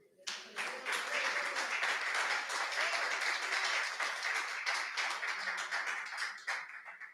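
Congregation at a Brazilian prayer service clapping, a steady, moderately distant patter of many hands that starts abruptly and continues evenly, fairly faint.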